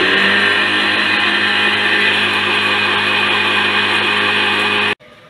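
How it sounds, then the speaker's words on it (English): A spice grinder whirs steadily at close range, pulverising roasted whole spices into garam masala powder, loud and continuous for about five seconds before cutting off abruptly. "once this cools, we can grind this to a fine powder."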